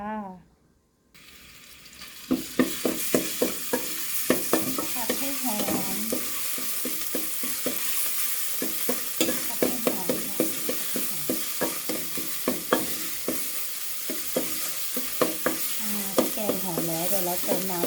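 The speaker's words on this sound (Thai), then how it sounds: "เติมน้ำมันลงไปค่ะ ใส่พริกแกงเขียวหวานลงไปผัดจ้า" Green curry paste stir-fried in hot oil, a steady sizzle broken by repeated scraping strokes of a spatula against the pan, close and fairly quiet, with no talk.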